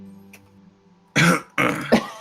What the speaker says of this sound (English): just starts to clear their throat